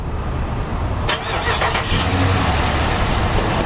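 A security patrol car starts up and pulls away, a close engine catch and rev rising over steady outdoor background noise, then a continuing mid-pitched engine hum.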